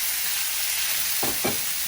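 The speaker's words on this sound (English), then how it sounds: "we're gonna get everything started frying" Carne asada steak sizzles steadily in a hot, oiled pan, a constant crackling hiss with a couple of brief scraping stirs near the end.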